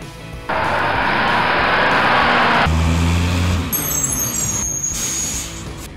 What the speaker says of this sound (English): Monster School Bus.